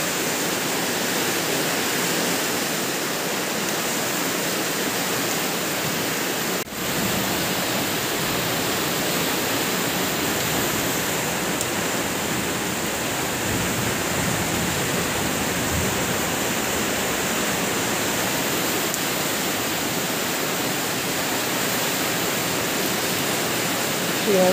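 Floodwater rushes through city streets in Nagpur after a cloudburst, a steady loud broadband roar of flowing water that continues unbroken throughout, with a brief dip partway through.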